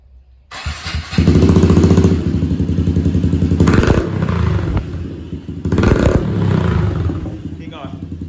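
A Honda CRF110 dirt bike with a Big Gun Evo exhaust starts with a clatter, then idles loud and close with a rapid raspy thump before revving up twice in strong surges. Voices talk faintly underneath.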